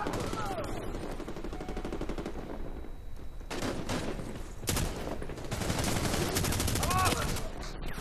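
Automatic and single gunfire in the video game Medal of Honor at a market in Kandahar, with rapid bursts and sharp shots filling the clip alongside faint game voices.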